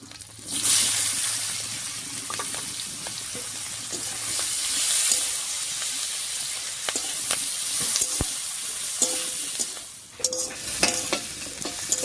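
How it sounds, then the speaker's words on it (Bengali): Crushed garlic, onion and green chili frying in oil with dried fish (shutki) for Bengali kochu shak, a continuous close sizzle broken by repeated stirring scrapes and clinks of a spatula against the pan. "এবারে থেতো করা রসুন পেঁয়াজ আর লঙ্কাটা দিয়ে দিচ্ছি"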